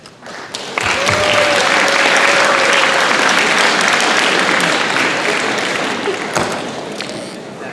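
A school audience gives loud, sustained applause after student council election speeches, broad crowd clapping that swells quickly and continues for several seconds, with a brief voice at the start.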